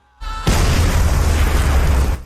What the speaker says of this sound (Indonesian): Bom itu meledak tanpa bisa melukai Atis.